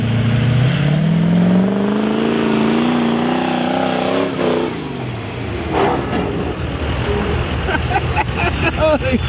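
A mega monster truck charges into a water hole more than eight feet deep, its engine roaring loud and close. The pitch climbs through a hard rev, peaks and drops away, then a rough churning rumble continues as it pushes through the water.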